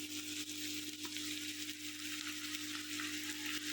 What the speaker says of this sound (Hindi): घी में हमने प्याज डाल दिए हैं और अब हम थोड़ा मिक्स करेंगे, और साथ ही जो टमाटर है वो हम इसमें शामिल कर देंगे।